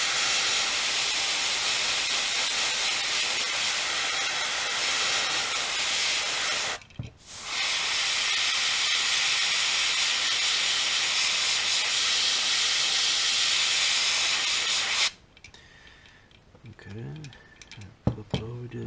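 An airbrush sprays paint in a frog pattern, giving a loud, steady hiss that stops briefly partway, resumes, then cuts off and leaves quieter handling noises.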